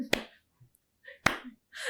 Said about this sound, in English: I'd just like to give a slow clap.